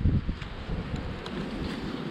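Gusty wind blows head-on against a door, buffeting steadily with a deep, rough rumble, pressing and roaring close by with no voices.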